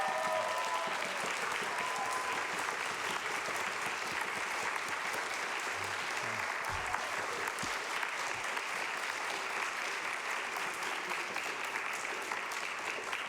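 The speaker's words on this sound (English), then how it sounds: "So I do want to start just by a quick round of applause" A sustained round of applause from the audience at a city council meeting, many hands clapping steadily and evenly for over ten seconds with faint crowd murmur underneath.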